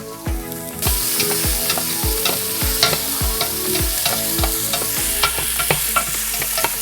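Onions saute in a pan for chicken tinola, a Filipino chicken dish, with a steady bright sizzle. A spoon scrapes and stirs in regular strokes, loud and close, and no one speaks.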